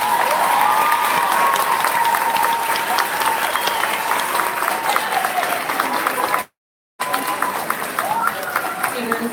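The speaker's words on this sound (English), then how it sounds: "let's give these students a round of applause" Sustained audience applause fills a school auditorium at a 5th grade student promotion ceremony, dense broadband clapping with some cheering, briefly cut out near the end before resuming.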